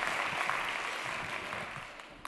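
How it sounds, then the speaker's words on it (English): An event audience gives a brief, moderately loud burst of applause that forms a continuous clapping wash and eases off slightly over two seconds. "A round of applause."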